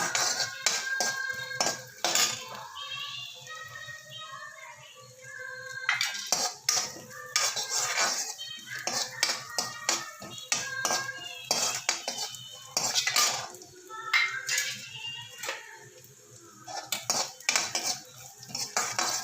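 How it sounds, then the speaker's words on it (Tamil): Coconut roasting in a pan while it is stirred: a spoon clinks and scrapes against the metal again and again in an uneven rhythm, close and fairly clear, with no speech. "முதல்ல தேங்காய் போட்டுருவோம். ஏன்னா தேங்காய் கொஞ்சம் நல்லா ப்ரௌனாக வறுபடணும்."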